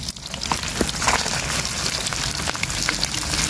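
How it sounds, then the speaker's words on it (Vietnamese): Heavy rain pours down in a steady, dense hiss that floods a riverside area at night, loud and continuous throughout, with no talking. "Mưa ngập nước hết trơn rồi nè. Nó mưa lớn lắm."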